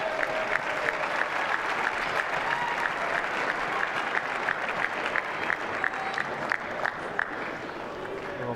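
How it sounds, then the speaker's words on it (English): Crowd at the 2012 European Top 12 table tennis semifinal applauding and cheering German player Dimitrij Ovtcharov, a dense, steady wash of clapping from the stands with scattered sharper claps throughout. "Cheers of Dima in the crowd again, the German fans well behind the German player."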